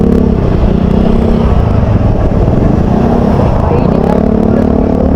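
Motorcycles weave through traffic on a busy one-way road, with a loud, continuous engine drone under a voice speaking throughout.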